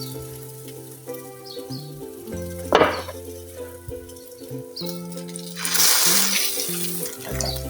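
Chicken snack pieces for an iftar meal frying in a small amount of oil, a soft sizzle that swells with bursts of crackle as pieces are dropped in, heard beneath steady background music.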